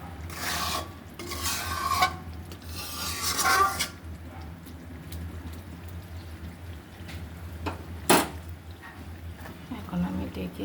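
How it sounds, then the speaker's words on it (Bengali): Spices are stirred and fried in a pan on a home gas stove, giving soft scraping and rasping strokes over a low hum, with someone talking throughout and a sharp clink near the end. "এই যে মশলা কষতে দিয়েছি"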